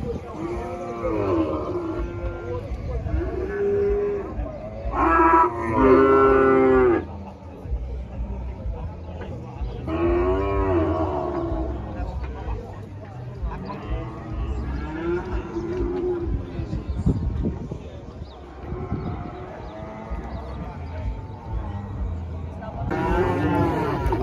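Cattle at a livestock fair in Monte Alegre, Sergipe, lowing in long, loud moos close by over a steady crowd babble, with several animals calling through the scene.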